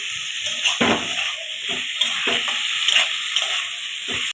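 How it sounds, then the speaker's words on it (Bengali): Vegetables sauté in hot oil in a pan, a close, dense sizzle overlaid by a few louder stirring scrapes and clatters of a spatula at irregular intervals. "সবজিগুলো একটু কষে নিয়ে জল দিয়ে দেবো"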